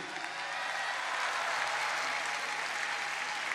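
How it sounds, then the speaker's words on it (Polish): Dense, steady applause from a large audience at a 1994 Sopot concert fills the space evenly at moderate volume without pause. "Proszę brawa dla tych miłych pań"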